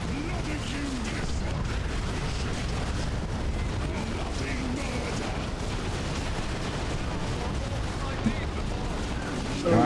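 Manticore rocket artillery in Dawn of War 2 fires continuous rumbling volleys and blasts, dense and loud for the whole stretch, with battle noise and voices mixed in.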